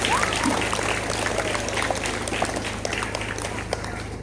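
A crowd at a Kartini Day school ceremony applauds the ceremony officers with a sustained wash of clapping and scattered sharper claps that slowly tapers off.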